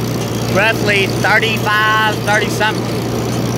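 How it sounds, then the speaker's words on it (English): A 1957 Farmall 350 tractor, 35 horsepower, pulling an 8-foot Woods bush hog, runs with a steady low engine drone close by while someone talks over it. "So, this is a 1957 Farmall 350"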